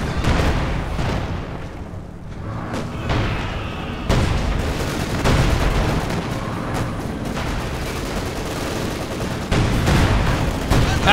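Heavy anti-tank gun and tank cannon fire in the Company of Heroes 2 battle, with a Pak 43 and Panzer IV among the units: a dense, continuous barrage of booms and gunfire, loud throughout with sharper blasts near four and ten seconds.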